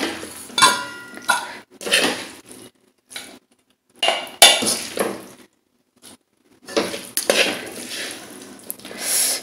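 Metal pots and utensils clank and scrape in irregular bursts with short pauses as cooked dishes of chana dal kootu, lemon rasam and ivy gourd tomato poriyal are transferred into a serving vessel in a home kitchen.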